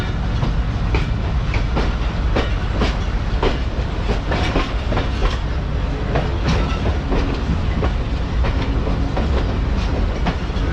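A Mohen Jo Daro passenger train in Sindh rolls loudly into a platform line, with wheels clacking rhythmically over rail joints beneath a constant heavy rumble throughout.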